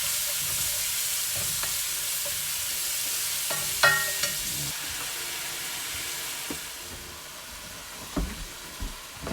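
Onions frying in olive oil in a heating cooking pot, with a continuous close sizzle and hiss and occasional clinks and scrapes of a utensil against the pot, with no voices.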